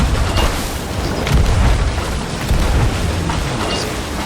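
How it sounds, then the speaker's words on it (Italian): Ship cannon fire in Sea of Thieves during a megalodon chase: a loud, dense booming rumble with rolling low thuds and a steady roar of sea and wind beneath. "Vado di cannone."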